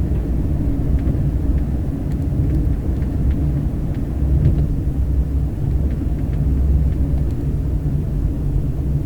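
A delivery car drives through suburban Bangkok traffic, heard from inside the cabin as a continuous low engine and road rumble, steady and fairly loud with no talking.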